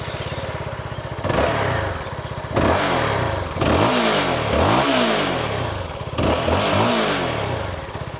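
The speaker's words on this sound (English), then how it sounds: "it is the exhaust note from the Keeway as well, which sounds much better as compared to the BMW." A Keeway K300R single-cylinder 300cc motorcycle is revved repeatedly from idle, the exhaust note surging in several sharp bursts and dropping back to a throbbing idle between them, loud and close.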